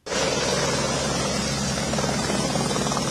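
A helicopter rescuing people stranded by flash flooding in northern India gives a loud, continuous rotor roar and engine drone throughout, with no talking over it.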